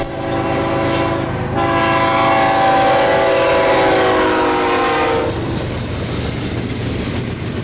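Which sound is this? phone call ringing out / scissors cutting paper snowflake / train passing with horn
train passing with horn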